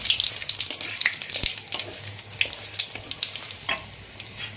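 Radhuni seeds drop into hot oil already holding whole dried chillies and bay leaf for a Bengali shukto, crackling and sizzling steadily with sharp pops and spits throughout, close and fairly loud.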